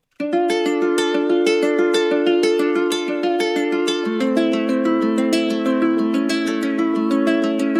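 Guitar plays a rhythmic, repeating melody of quick plucked notes, soaked in shimmering effects that blur the notes together, loud and steady with no voices.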